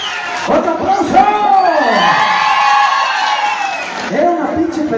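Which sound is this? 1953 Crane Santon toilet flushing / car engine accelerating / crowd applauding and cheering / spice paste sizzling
crowd applauding and cheering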